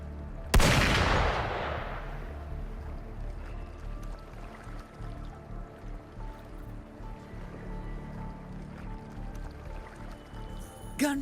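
Gunfire in the video game Wuthering Waves: one sharp, loud shot opens, followed by a low rumbling ambient bed with faint further pops and a small burst at the very end.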